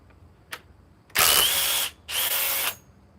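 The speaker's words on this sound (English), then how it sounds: "The DeWalt XR DCF 860 5 amp power stack." Cordless DeWalt XR DCF860 impact driver with a 5 amp power stack battery backing a lag screw out of wood, two loud close bursts of rapid hammering, the second slightly shorter, after a faint tap.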